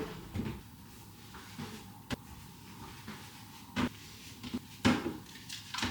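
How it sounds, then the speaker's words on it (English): Yogurt cartons are pulled from cardboard packaging and placed in a home fridge, giving faint, scattered clunks and knocks with short clatters over a quiet room hum and no talking. "I'm just gonna unbox them and put them in my fridge so I can get rid of the cardboard."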